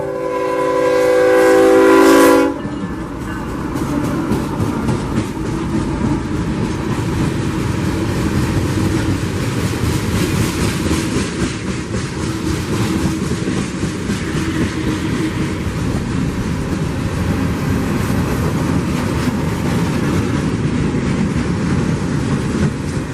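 Freight train Q441 in central Florida sounds a loud horn blast for about two seconds, then rolls past close by with a steady, heavy rumble and clatter of cars that continues to the end.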